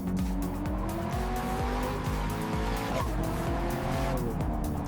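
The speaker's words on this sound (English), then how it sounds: "12 cylinders singing beyond reason." A Pagani Huayra Coupe's V12 engine revs hard and continuously, its pitch sweeping up and dropping through repeated gear changes, loud and close, mixed with tire squeal.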